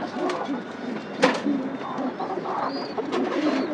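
Sirazi pigeons coo softly nearby, several low cooing calls spread across a few seconds with a faint background hum and no speech.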